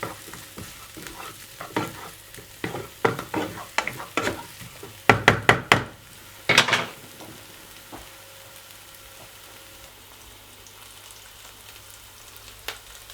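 Tomatoes and anchovies going into a hot frying pan: a burst of clattering, scraping stir strokes with loud sputtering hits, then a faint, steady sizzle carrying on alone with an occasional small tap.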